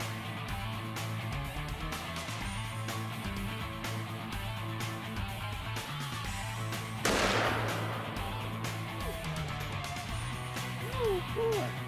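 A firearm fires once at a target, a single sharp loud blast partway through a steady background of low mechanical hum and noise, with brief voices nearby.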